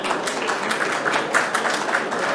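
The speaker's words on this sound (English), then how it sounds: "big hand of applause, please" Audience at a crypto investor show stage applauding a speaker's introduction, steady crowded clapping throughout, moderately loud and even.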